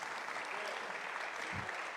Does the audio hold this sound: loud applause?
yes